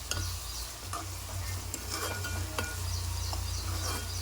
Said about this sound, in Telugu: చూడండి ఆనియన్ ఎట్లా ఫ్రై అయ్యాయో ఇలా చేసుకోవాలండి.